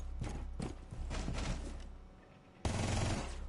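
Rapid bursts from a Vector submachine gun in Rainbow Six Siege, several quick rattling volleys close up, followed by a louder sustained burst near the end.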